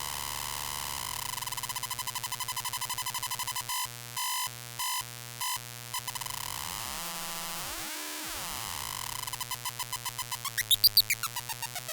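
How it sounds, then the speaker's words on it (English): A square wave oscillator on a modular synthesizer: a buzzy, harmonically rich steady tone that stutters in short gated bursts midway, sweeps in pitch, then returns as a rapid pulsing pattern, heard alone without talk. "This is now the square wave."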